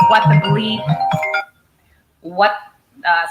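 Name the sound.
mobile phone ringtone ringing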